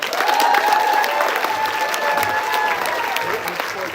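Comedy club audience at an international comedy competition in Seattle applauds steadily, a dense wash of clapping with some cheering that holds loud throughout, easing slightly toward the end.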